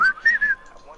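A person whistles a short melodic tune at close range, several bright sliding notes in quick phrases, with no talking.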